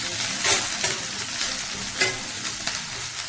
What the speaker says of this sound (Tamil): நல்லா மிக்ஸ் பண்ணி விட்டுரும்.